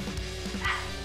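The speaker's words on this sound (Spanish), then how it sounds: "y malditos perros." Dogs in Minecraft with the Forbidden Forest mod give a few quick yipping barks, short bursts spaced through a brief moment at moderate loudness.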